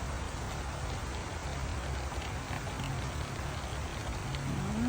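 Steady rain falls outdoors, making a continuous even hiss throughout, near and moderately loud. A faint rising tone appears at the very end.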